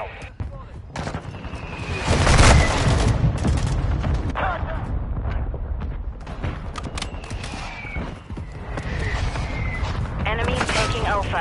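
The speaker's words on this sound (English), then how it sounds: "Mortar strike inbound" Mortar rounds from a strike in Call of Duty Modern Warfare 2 hit in a loud, rolling run of booming blasts that swell early and keep crackling on, with gunfire and game voices mixed underneath.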